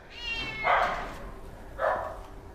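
Cats at a crowded shelter housing dozens of cats and dogs meow twice, a longer call followed by a shorter one about a second later, fairly close and clear over low background noise.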